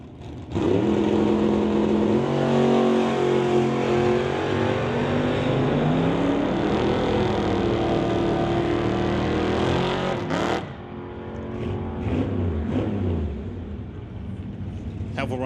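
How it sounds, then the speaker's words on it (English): A Chevrolet drag race car with a 434 small block Chevy engine rumbles loudly and steadily at the strip, revving, then its roar drops off and trails away, with a commentator talking over it. "434, small block Chevy engine underneath Heffel's machine."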